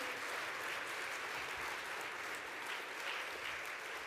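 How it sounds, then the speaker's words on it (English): A hall audience at the 2013 National Hospital Radio Awards ceremony claps steadily without a break, a uniform wash of applause heard at a faint, distant level. "Give them a round of applause, not just for tonight, but for the whole weekend"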